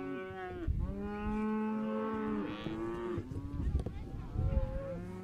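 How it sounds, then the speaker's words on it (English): An old heifer in a cattle catch pen on a Kansas Flint Hills ranch lets out loud, drawn-out moos, two long calls close by, followed by shorter grunting lows. "This one old heifer coming at me here."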